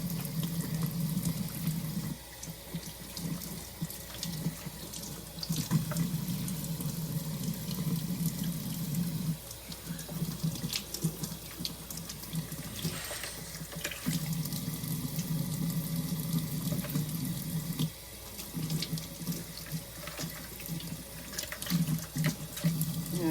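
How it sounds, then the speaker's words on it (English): Cool tap water runs steadily into a sink while raw chicken is rinsed under it, a continuous splashing rush close by with small shifts as the flow hits the meat, and no voices. "you can rinse it off with cool water"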